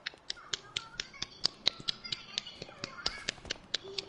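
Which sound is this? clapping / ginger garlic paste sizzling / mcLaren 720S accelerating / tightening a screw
clapping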